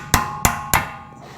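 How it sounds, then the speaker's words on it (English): Three sharp metallic hammer blows land on vice grips clamped to a stuck split pin on a Toyota Landcruiser's tie rod end, evenly spaced and close, each ringing briefly before fading; no talking. "I'm going to grab my vice grips and clamp down on there, and then hit that with a hammer to get it the last little bit"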